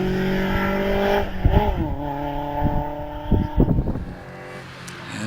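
MG ZR fitted with a row of spotlights on the front, climbing the Harewood hillclimb course, its engine revving through rising and falling pitch sweeps with sharp throttle blips, fairly close and loud.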